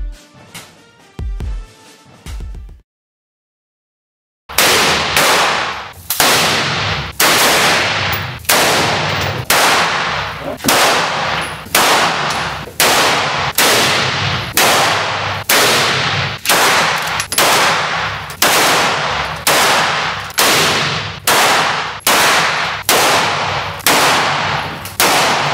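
Firearms at an outdoor shooting range fire about twenty sharp, loud, close shots at a steady rhythm of roughly one per second, following a brief silent pause.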